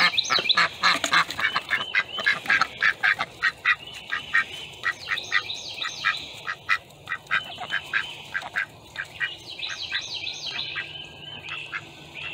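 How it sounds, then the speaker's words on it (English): Ducks let out of their coop quack repeatedly in loud, close bursts, some rapid runs of calls and others spaced, continuing throughout. "In the last 3 days, I let the ducks out."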